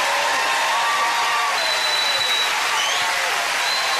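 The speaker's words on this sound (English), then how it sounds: "Give them a big round of applause, ladies and gentlemen." Loud, dense applause from a TV game-show studio audience on Family Fortunes, sustained and even for the whole stretch with no talking over it.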